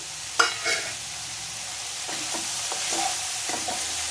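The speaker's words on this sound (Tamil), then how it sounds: "இது எல்லாத்தையும் நல்லா மிக்ஸ் பண்ணிட்டு" Broccoli florets and peas being stirred in a pan, an opening clatter followed by a steady sizzle and a series of rhythmic spatula scrapes, no speech.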